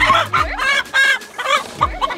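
A backyard chicken clucks close to the microphone in a quick run of short, choppy squawking notes, loud and with no talking over it.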